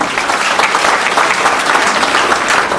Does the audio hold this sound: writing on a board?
no